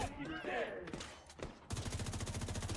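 Gunfire from the video game The Division 2 erupts in rapid, evenly spaced automatic bursts during the final second, following a stretch of game sounds and voice-like tones.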